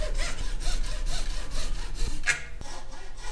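Iron saw cutting a PVC tube, a close rhythmic rasping of back-and-forth strokes, about two per second, steady and loud before stopping near the end.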